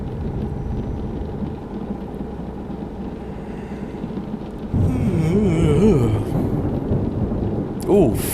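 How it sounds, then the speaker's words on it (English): Thunder rumbling in the Euro Truck Simulator driving game, a low continuous grinding roll under the engine drone, swelling into a louder rumble midway and ending with a sharper crack. "Ooh, thunder."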